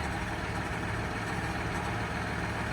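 A farm tractor's engine runs continuously at a steady idle, a dense, unchanging low mechanical rumble that sounds close and fills the whole stretch without pauses or talk.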